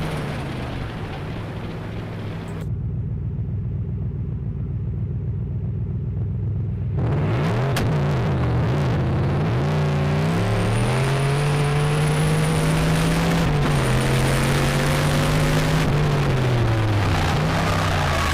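A 1UZ V8 in a turbocharged car roars close and loud during a tyre-smoking run, its engine note climbing and sweeping through revs with a steady rumble and tyre noise underneath.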